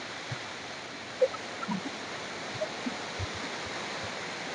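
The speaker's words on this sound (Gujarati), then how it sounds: "આ ખાલી પાણી પડે જુઓ, આ ઝેરનું ઝરણું આગળથી તમને બતાડું" Water pours from the Zer village stream in a steady, soft, even rush of noise heard from a distance, with a few faint small knocks and no voices.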